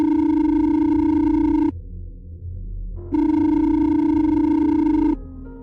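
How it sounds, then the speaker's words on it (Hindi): A mobile phone rings in a Hindi horror story, two long steady electronic ring tones, loud and close, separated by a short silent gap. "कि पॉकेट में रखा उसका फोन बज उठा।"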